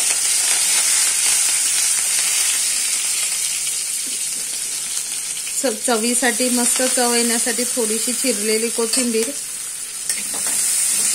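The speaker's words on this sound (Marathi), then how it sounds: "आता त्याच कढईत त्याच तुपात मी 1 चमचा एवढं जिरं, 2 मिरच्या, कढीपत्ता," Cumin, green chilies and curry leaves sizzle in ghee in a kadhai, a steady close crackle and hiss throughout, with a person speaking over the middle stretch.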